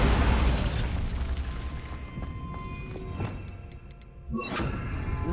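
A Bombarda blasting spell detonates in Hogwarts Legacy, a loud booming blast up front that fades into crackling debris and tinkling shards, with a second burst near the end.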